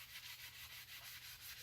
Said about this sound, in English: You always want to sand with the grain when you're starting to do finishing work.